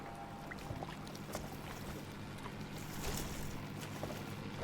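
A boat engine drones steadily over broadband water and wind noise, with a low rumbling hum that persists throughout and no talking.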